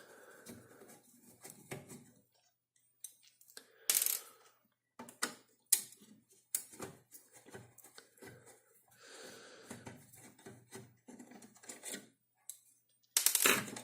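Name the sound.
unscrewing screws from an 8-track player circuit board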